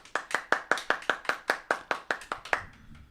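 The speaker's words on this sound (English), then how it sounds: "Ethan, you picked a really bad clap track for this week." A sparse clap track played as a sound effect: about a dozen distinct, evenly spaced handclaps, thin and close, like only two people clapping, ending abruptly.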